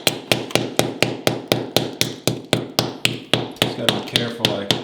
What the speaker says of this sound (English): if you hit it with the ball peen, the hammer, it kind of breaks up that